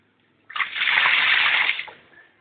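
Hand-pumped water gushes into a mixing bowl holding cabbage, a loud, steady splashing pour that starts abruptly, holds for over a second, then tapers off.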